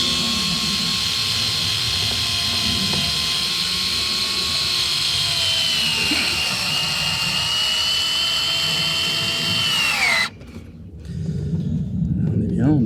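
Power screwdriver driving screws into a Maxton Design front lip on a Mazda MX-5 NBFL, a continuous high whine that dips in pitch under load then stops abruptly, with voices talking around it.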